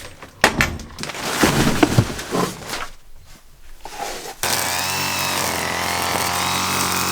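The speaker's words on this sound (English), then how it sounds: "I'm gonna grab the weed whacker and start cutting this shit down." Weed whacker cutting down overgrown vegetation outdoors, first a busy stretch of rustling and scraping handling noise, then the trimmer's engine suddenly steady and loud, droning continuously to the end with no voices.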